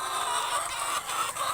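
Laying hens cluck inside a clean chicken coop, a close, continuous murmur of overlapping clucks and calls throughout.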